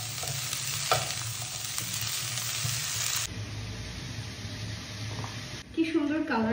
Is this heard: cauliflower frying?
yes